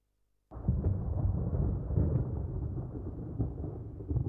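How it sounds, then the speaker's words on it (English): Thunder in Resident Evil on GameCube bursts in after a brief silence and rolls on as a deep, loud, sustained rumble with occasional sharper cracks. "It's like the thunder in the background."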